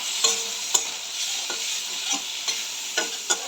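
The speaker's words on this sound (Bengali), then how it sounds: "এটা নাড়াচাড়া করে আমি কারি পাতাটা একটু ভাজা ভাজা মতন করে নিচ্ছি।" Onion and garlic paste sizzles in oil in a pan while a spatula stirs it, with scraping strokes every half second or so over a steady close frying hiss.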